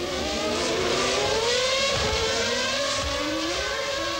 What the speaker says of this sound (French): Le Québécois doit maîtriser sa voiture avec un pneu crevé qui s'est dégonflé petit à petit.